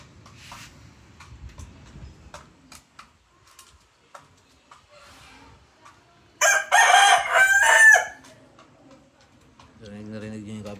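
A neighbor's rooster lets out one loud, close, drawn-out crow of about a second and a half, with softer clucks and barnyard rustling around it.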